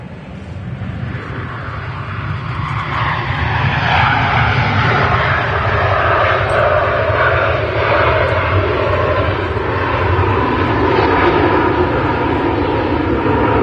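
A propeller airliner taxis at Manchester Airport, its steady engine drone loud and continuous with a broad rumble, holding fairly even throughout with no talk over it.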